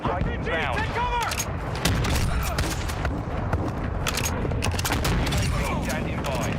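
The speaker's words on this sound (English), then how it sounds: "friendly precision airstrike inbound" Precision airstrike explosions in Call of Duty Warzone: a dense, continuous barrage of booms and gunfire-like blasts that stays loud throughout, with game voice chatter layered on top.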